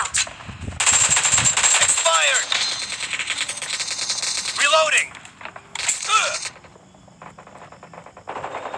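Gunfire from a PUBG Mobile match: sustained rattling shots mixed with game sound effects and whooshing sweeps, loud and continuous with brief dips, a voice or game announcer speaking over parts of it.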